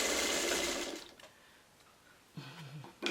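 A sewing machine stitching small fabric crumbs for a quilt, running in a loud, close burst for about a second before stopping, followed by quiet and a brief low hum near the end.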